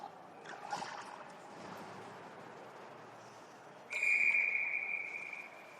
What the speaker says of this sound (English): He'll hold that for a whistle.